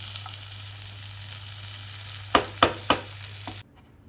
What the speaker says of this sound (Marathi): भेंडीची भाजी जास्त फ्राय केली ना तर खूप भारी लागते